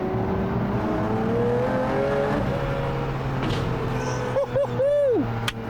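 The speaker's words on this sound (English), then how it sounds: "Listen to the engine on the overrun." A Pagani's 7.3-litre V12 on the overrun, a loud nearby engine tone that holds and gently wavers, then crackles and pops as the revs drop sharply near the end.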